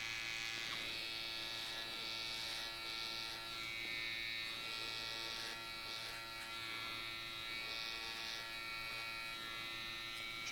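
An electric hair clipper hums in a quiet, continuous buzz while detailing a man's beard during a barber's fade and sculpt, with faint shifts in tone as it moves. No talk.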